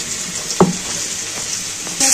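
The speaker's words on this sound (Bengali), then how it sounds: "আলুটাকে কন্টিনিউ নেড়ে ছেড়ে ভাজতে হবে, নাহলে নিচে লেগে যেতে পারে" Boiled potatoes fry in a pan for ghee aloo morich, a steady close sizzle with one sharp scrape of stirring and a brighter hiss rising at the end.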